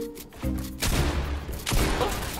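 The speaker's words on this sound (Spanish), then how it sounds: "No, le dan un disparo." Gunfire in the Fortnite video game: a few loud, sharp broadband bursts from nearby, the last two about a second apart, over a busy game soundscape.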